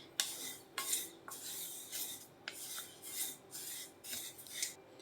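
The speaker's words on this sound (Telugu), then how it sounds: "ఈ నువ్వులను ఒక 5 నిమిషాలు లో ఫ్లేమ్లో పెట్టి దోరగా వేయించుకోవాలి." Sesame seeds are dry-roasted in a pan for laddu, giving a faint, repeated scraping and rasping as a spatula stirs them in rhythmic strokes, with no one talking.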